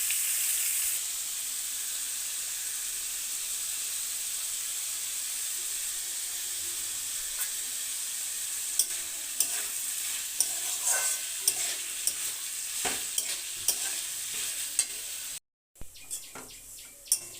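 Cut vegetables frying with salt, turmeric and a little sugar, a steady close sizzle broken by scraping stirs and clinks of a spatula against the pan, then cutting off abruptly near the end.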